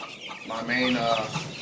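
Chickens cluck and chirp softly together in a brooder, a steady murmur of overlapping calls at close range.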